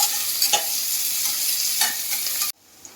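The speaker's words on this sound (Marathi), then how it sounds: "कांदा चांगला परतून घ्या." Chopped onion sautéing in hot oil inside a pressure cooker, a loud steady sizzle with a couple of stirring scrapes, cutting off abruptly near the end into quiet.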